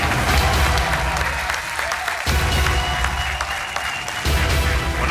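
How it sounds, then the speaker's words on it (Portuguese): Studio audience applause on a television quiz show as challenger Eduardo, a 37-year-old product manager from Porto, is introduced; loud, dense clapping with a brief dip midway, close and lively, backed by a low musical rumble. "Um aplauso para o Eduardo."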